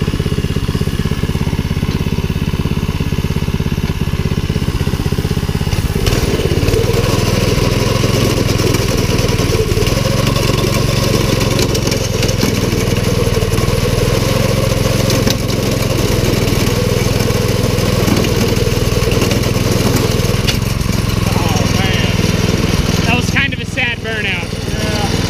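Rat rod wagon's small engine runs steadily through a burnout attempt, a continuous buzzing drone with a slight rise partway in and a brief clatter near the end, while people talk over it.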